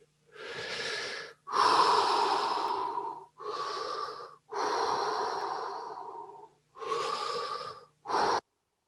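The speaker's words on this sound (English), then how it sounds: "Just breathing a little more deeply than normal, and always breathing in or breathing out." Deep, slow human breaths in and out in a guided breathing session, six long airy inhales and exhales in a steady rhythm, close to the microphone and with no speech.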